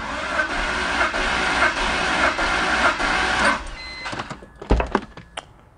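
A BMW E46 3-Series engine cranks over on the starter during a compression test on cylinder one, a steady rhythmic churning for about three and a half seconds that stops, followed by a few clunks.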